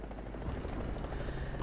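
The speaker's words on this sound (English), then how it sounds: "dead helicopters and their autistic screeching" A destroyed helicopter in the War Thunder video game gives off a dense, steady mechanical rumble and whine at moderate level, alone without talk.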